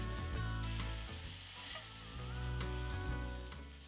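Beef browning in a hot pan for a teriyaki stir fry, a continuous hissing sizzle with occasional pops, heard over steady background music with no talk.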